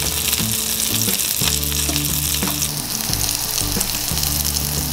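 Cajun blackened salmon, skin side down, frying in a pan: a loud, dense, continuous sizzle close up, with faint stirring or shifting noises and no talk.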